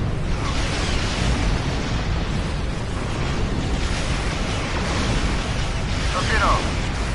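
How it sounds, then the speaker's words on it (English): Torpedo explosion in the Star Trek Online space game, a loud dense rumbling blast that fills the whole stretch with sustained booming noise and a brief brighter burst near the end. "Torpedo."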